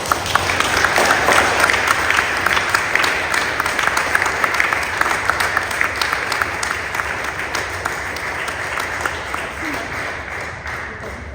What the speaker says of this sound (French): je vous invite très sympathiquement et chaleureusement à applaudir notre confirmé